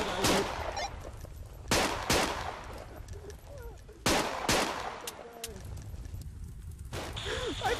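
Close, sharp gunshots in the VR shooter Onward, several loud cracks and short bursts spaced across the clip, with excited shouting between them.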